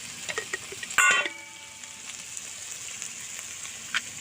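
Ghee goes into a hot pan of banana flower curry with paneer, giving one short, bright sizzling burst that quickly settles into a faint, steady frying hiss.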